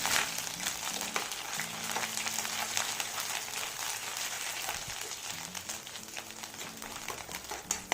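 Curry leaves and ginger-garlic paste sizzle in hot oil in a pan, a steady crackling fry with scattered pops, fairly close and heard alone without talk.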